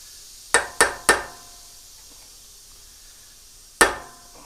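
A hammer strikes a center punch set on a broken tap, giving three quick sharp metallic hits in a row, a pause, then one more hit, each loud and close with a short ring.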